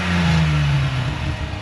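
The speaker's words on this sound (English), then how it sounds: "I also upgraded the stock exhaust for a super sprint that sounds amazing." A BMW E30 325i fitted with an aftermarket Super Sprint exhaust revs briefly, its engine note rising and then falling back over about a second and a half, loud and close with no speech.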